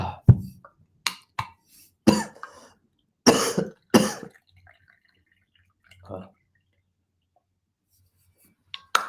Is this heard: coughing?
yes